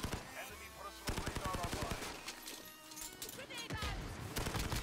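Video game gunfight with rapid bursts of automatic gunfire and scattered single shots, loud and close, in a dense, busy battle mix.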